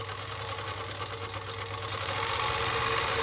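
Seiko GN2-4D overlock sewing machine running steadily while stitching a loose-weave fabric of the kind used for military uniforms, a continuous close mechanical whir with fast rhythmic chatter that intensifies slightly toward the end.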